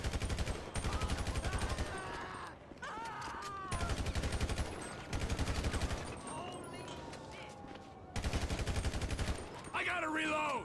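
Repeated bursts of automatic gunfire in Grand Theft Auto V, loud rapid volleys of several seconds each separated by short lulls, with voices speaking between them.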